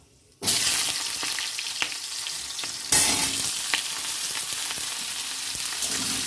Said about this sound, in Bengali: এটাও ভাজতে হবে ভালো করে